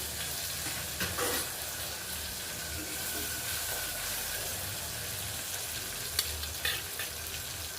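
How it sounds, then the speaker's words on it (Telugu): Chopped fenugreek leaves sauté in a pan for a Telangana-style tomato curry, a dense continuous sizzle and hiss with a few stirring knocks, close and steady with no talk. "మెంతి యాడ్ చేసుకోవాలి. పచ్చి వాసన పోయేంత వరకు మగ్గించుకోవాలి."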